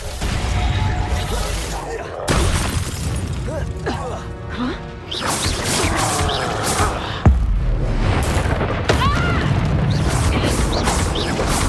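Reducto spells cast in Hogwarts Legacy produce repeated crashing blasts and smashing impacts over busy game effects, with a character's voice calling out spells between the hits.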